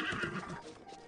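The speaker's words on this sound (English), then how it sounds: "You stay here, horse." Horse whinnying in The Legend of Zelda: Breath of the Wild, a short, loud neigh with faint hoof clip-clop under it, close by and filling the whole moment.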